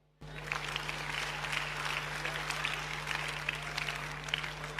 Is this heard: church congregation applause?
yes